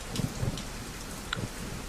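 Storm rain in the zombie survival game Zafehouse Diaries: a steady, soft hiss of rainfall with a few faint low rumbles and patters, heard alone at a low level.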